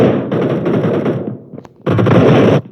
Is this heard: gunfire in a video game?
yes